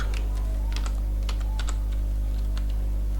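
Typing code on a computer keyboard, a scattered run of quick close key clicks in uneven bursts over a loud, constant low electrical hum.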